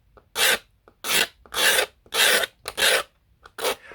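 Wood being surfaced by hand with a rasp-like scraping stroke, leaving a clean edge: six or seven close, loud rasping strokes in a steady back-and-forth rhythm, each separated by a short pause, with no voices.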